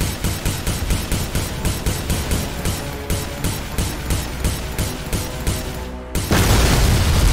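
Rapid weapon fire and booming blasts in the Conflict of Stars space game hit a pirate outpost, a fast rhythmic volley of loud shots giving way to a sustained roaring explosion.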